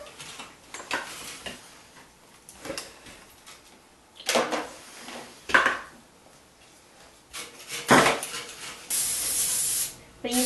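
Cleaner or degreaser sprayed from a can during a Toto Neorest 500 toilet installation, in several short hissing bursts with a longer spray at the end and handling clatter between them.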